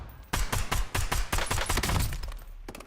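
Automatic gunfire in Warzone, a rapid string of about a dozen close, loud cracking shots in a steady rhythm, fired in short bursts with tiny gaps between them.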